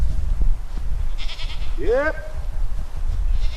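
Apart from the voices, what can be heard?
goats bleating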